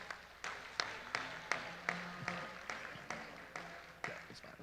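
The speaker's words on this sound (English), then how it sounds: "Let's give these exhibitors a big round of applause" Light, sparse clapping rises at a Kentucky State Fair livestock show championship drive, a thin run of distinct, evenly spaced claps in a large hall with faint background voices.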